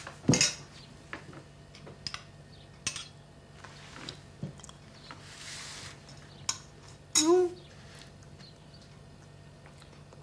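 Metal spoon clinking and scraping against a bowl of porridge, a few scattered light taps and one sharper scrape, close and fairly quiet in an otherwise calm room.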